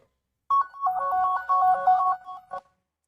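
An Android phone rings out through the Find My Device play-sound feature: a loud electronic ringtone melody of rapid alternating tones, starting abruptly and lasting about two seconds before cutting off, heard alone in a quiet room.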